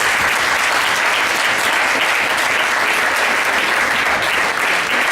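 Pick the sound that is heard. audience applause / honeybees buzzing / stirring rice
audience applause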